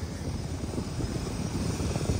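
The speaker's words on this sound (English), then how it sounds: "Look at the helicopter." A helicopter flies over the sand dunes at Oceano Dunes near Pismo Beach, California, giving a steady, dense low rotor rumble that holds at the same moderate loudness throughout with no voices.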